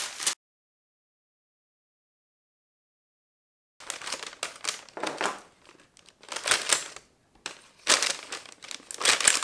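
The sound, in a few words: crumpling kraft paper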